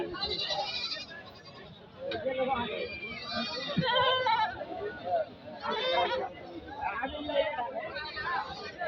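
Goats bleat among heavy crowd chatter at a busy Eid-ul-Adha livestock market in Jamalpur, Gazipur, with calls scattered through the steady babble of voices.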